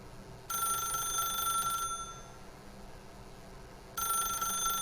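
A telephone rings in the video game The Stanley Parable, loud bell-like trilling in two bursts separated by a brief quiet gap, with no voices over it.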